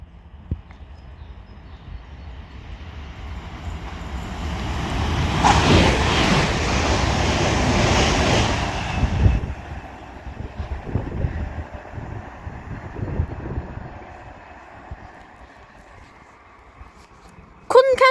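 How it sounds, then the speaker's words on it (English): A TransPennine Express Class 397 electric train passes straight through Kearsley station, a rising whoosh that peaks loudly for a few seconds and then fades into rumbling wheel noise and wind buffeting on the microphone. "Now passing through is going to be a Transpennine Express Class 397 with the 1642"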